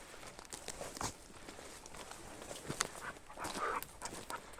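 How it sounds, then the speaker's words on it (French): Dog panting after being let off its leash on a forest hike near Blois, steady quiet breathing close by with footsteps and rustling, no talk. "Première fois que je détache le chien. Il est sans laisse."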